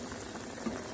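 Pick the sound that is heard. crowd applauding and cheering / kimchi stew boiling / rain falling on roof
kimchi stew boiling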